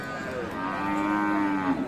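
At the Aftabganj cattle market, where Friesian and crossbred bull calves are sold, a cow gives a single long, loud moo close by, held steadily for nearly two seconds over faint market noise.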